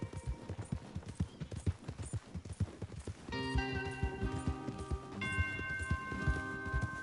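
Horse hooves clip-clop at a steady trotting rhythm in Red Dead Redemption 2, close and clear, with music rising underneath partway through.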